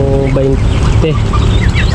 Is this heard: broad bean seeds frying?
no